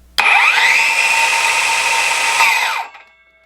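RIDGID Octane brushless 18V cordless circular saw running free with no workpiece, a loud steady high whine that rises sharply at the trigger, holds level for over two seconds, then winds down smoothly as the blade brakes, alone.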